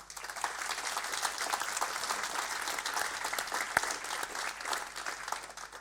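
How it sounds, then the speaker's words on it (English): A hall audience at the Unipart colleagues awards in Nuneaton gives the CSR team a steady round of applause, dense and sustained for several seconds with no talking over it. "So I think a round of applause to the CSR team."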